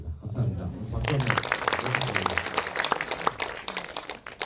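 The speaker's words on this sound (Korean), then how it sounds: "박수 한번" Audience applause in a nearly full independent-film cinema during a post-screening Q&A, dense clapping swelling and continuing for several seconds, with a voice over the start.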